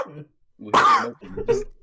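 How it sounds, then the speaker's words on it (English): A man coughs once or twice in the background, brief throaty bursts separated by short pauses. "I love how this guy's just coughing in the background every 5 seconds."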